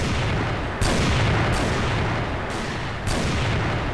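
Gunfire in the CrossFire video game, a dense, loud, continuous barrage of rapid shots with sharper bursts breaking through every second or so, with no voices.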